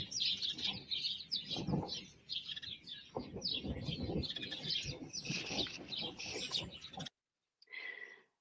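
Birds at a feeding station with a central food bowl, a dense chorus of busy chirps and tweets mixed with lower cooing and rustling, close and continuous, then a brief silence and a short final burst of calls.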